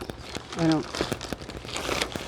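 Plastic bag crinkling while camping cooking gear is packed, a soft rustle with a louder crunch near the start and scattered crackles throughout, close by.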